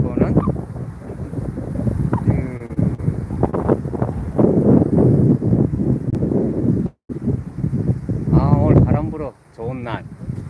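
Wind blowing outdoors on a hot late-summer day by a tidal creek and reservoir, a steady rushing buffet against the microphone that runs throughout, with voices of people talking over it.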